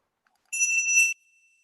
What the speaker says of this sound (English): I will ring a little bell